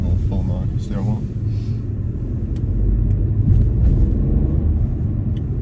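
BMW 1 Series F40 driving in sport mode, heard from inside the cabin as a steady engine and road rumble that swells a little midway, with a voice briefly talking near the start.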